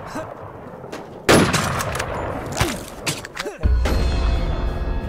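Gunfire in the online shooter game WarZ, loud bursts of rapid shots and thuds cutting in suddenly, followed by sustained noisy game sound, close and intense.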